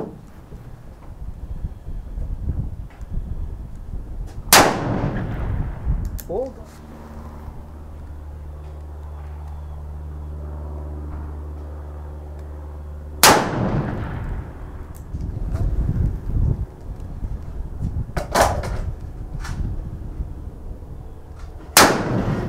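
Colt Walker .44 revolver fired outdoors, three sharp loud gunshots spread apart, each with a booming report and a trailing echo, plus a faint engine-like hum between shots.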